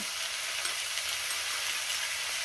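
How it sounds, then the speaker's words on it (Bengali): Ivy gourd frying with egg in a hot pan, a steady dense sizzle that stays loud and even throughout, close up with no voices. "ভালো করে লাল লাল করে ভেজে নেব"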